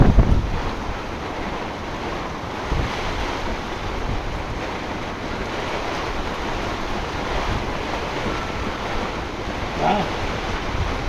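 Strong storm wind gusts roar over a sailboat during a possible tornado, a loud, sustained rushing buffet with rising and falling surges, no voices.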